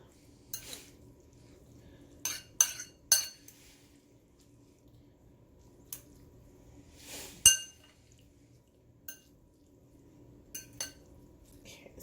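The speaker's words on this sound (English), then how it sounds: "stir these up a little bit" Spaghetti noodles are stirred in a pot, giving scattered light clinks and scrapes of utensil against cookware, separated by quiet gaps.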